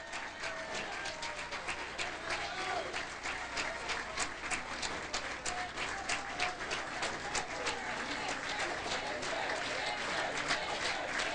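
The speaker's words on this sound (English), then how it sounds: "The crowd here, the fans in purple on their feet," Fans in purple stand and applaud a senior at a men's intercollegiate team bowling championship, producing sustained, dense clapping with some cheering that stays moderately distant, while a commentator talks over it.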